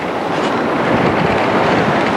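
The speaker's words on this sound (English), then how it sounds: "Pretty windy up here, eh?" Strong wind blows at the top of a church steeple in Holland. It makes a steady, loud rushing roar against the microphone, with no voices.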